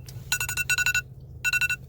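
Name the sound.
alarm going off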